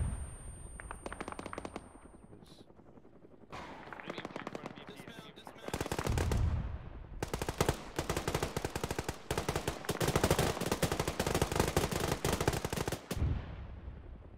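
Bursts of machine-gun fire and rapid gunshots from an Arma military video game, loud and close, coming in long rattling volleys with brief pauses between them, with faint voices beneath.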